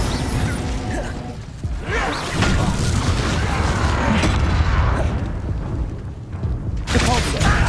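Spell-combat effects from the Hogwarts Legacy video game, with a fiery Incendio burst amid a loud, continuous clash of booming, crashing and mechanical magic sounds.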